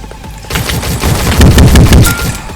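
Rapid pistol fire from a 1v1 video game gun fight, one player with a starter pistol and the other with a scoped pistol, sounding as loud dense bursts of overlapping shots after a quieter opening half second.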